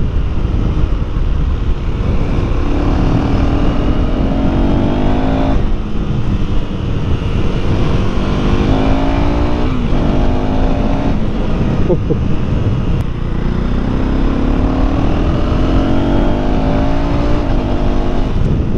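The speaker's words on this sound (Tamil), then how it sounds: "கொஞ்சம் எக்ஸாஸ்ட் நோட்டும் கேட்டுக்கோங்க" A 2024 KTM Duke 390 motorcycle exhaust drones loudly and continuously while riding, rising and falling in pitch as the engine revs and shifts, with rushing wind noise.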